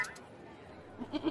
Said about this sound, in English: Check out that goat.